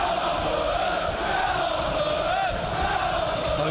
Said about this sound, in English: There is a crowd in here.